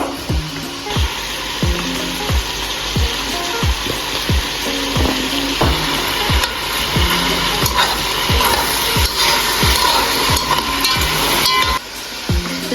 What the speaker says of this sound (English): Chop the onion finely and add into the meat fried together for 5 minutes.